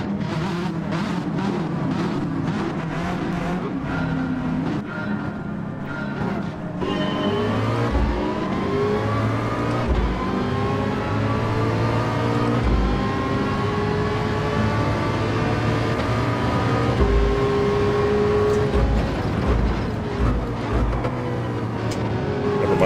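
Race cars, including a Ferrari, accelerate hard in the racing video game Gran Turismo 7, engines rising through gears and layered whines overlapping, loud and continuous with no talk.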